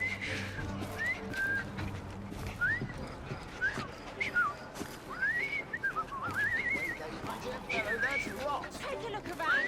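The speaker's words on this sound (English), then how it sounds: "I've just learned to whistle." Melodic whistling in Assassin's Creed Syndicate, set in Victorian London, rises and falls in short repeated tunes over about ten seconds, with light background ambience and game characters talking around it.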